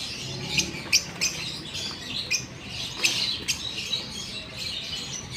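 Several African lovebirds, including blue ones, chirp and squawk in a steady stream of short, bright calls with occasional louder sharp squawks, moderately close over a faint background.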